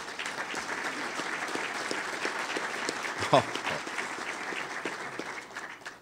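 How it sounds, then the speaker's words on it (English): Crowd at a public meeting applauding RTA Chairman John Gates, a continuous, even spread of many hands clapping, with one sharper nearby clap partway through. "Give him a round of applause"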